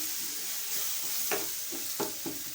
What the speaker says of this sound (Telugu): ధనియాలు జీలకర్ర పొడి మగ్గించి 1 నిమిషం ఇలా మగ్గించి